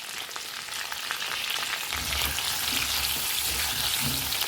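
Potatoes frying in a pan over low heat and being stirred, giving a steady close sizzle with scraping and stirring noises that grow fuller partway through.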